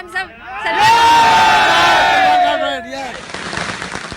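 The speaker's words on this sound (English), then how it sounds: "there's quite a crowd thronging around me" Large crowd of Salman Khan fans shouting and cheering outside a court after a verdict, a loud sustained roar of massed voices with a rising shout, fading to scattered voices.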